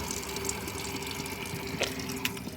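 Free water flows steadily at a sulfurous fumarole at Campi Flegrei, a continuous faint rushing and trickling wash with a couple of brief splashy clicks.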